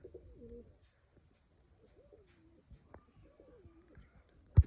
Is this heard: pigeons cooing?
yes